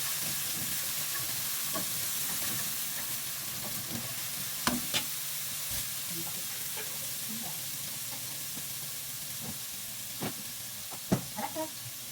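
Garlic fries in a hot pan in a home kitchen, giving a steady low sizzle with a few sharp clinks and stirring knocks scattered through it.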